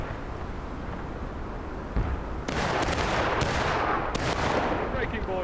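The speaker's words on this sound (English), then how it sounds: "Independent fire down the road." Musket gunfire rings out in a Civil War reenactment battle: a distant, rumbling field gives way to three loud, close volleys, each followed by a rolling echo.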